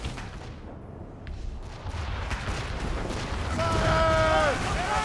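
Ship cannons firing during a naval battle in Assassin's Creed Rogue: a dense, rumbling roar of heavy booms that swells toward the end, with shouted voices and tonal game sounds over it.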